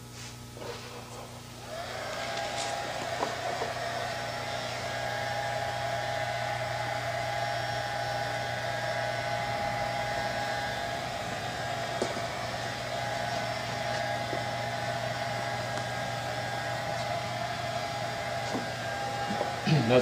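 A hair dryer blows steadily at close range over epoxy-laid composite fibres, with a constant whirring hum, starting after a brief quieter moment and continuing unbroken throughout.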